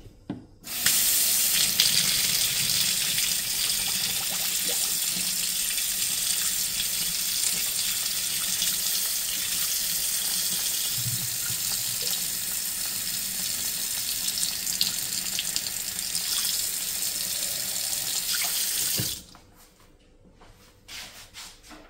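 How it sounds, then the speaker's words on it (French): Hot water runs from a tap into a bottle, a loud, steady rushing splash that lasts nearly twenty seconds before stopping abruptly, leaving a faint room tone. "Ensuite, je vais la remplir d'eau chaude."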